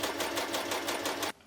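A sewing machine stitching dress back pieces together runs in a steady fast close whir for over a second, then stops abruptly, leaving a faint click.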